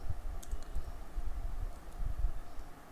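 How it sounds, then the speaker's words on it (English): Typing the javac compile command on a computer keyboard, a run of soft, muffled key taps at an uneven pace, close by over low background noise, with no talking. "So type javac as a compiler name and the name of the source file"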